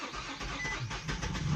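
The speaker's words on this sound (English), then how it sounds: "It's gonna be hard to start because there's plenty of brake cleaner in there." An Infiniti I35 engine cranking and catching after a throttle body cleaning with brake cleaner, a close, loud, churning start that builds toward the end of a short burst.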